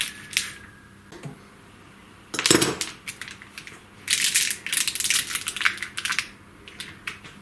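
A plastic zip tie zips tight in short ratcheting bursts while wiring a 2.2 kW CNC spindle motor, with clicks and rustling of cable and handling noise in a quiet workshop, no talk.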